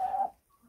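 A Marans or Barnevelder hen gives a short, close tonal cluck, a single call lasting about a quarter second before fading to quiet.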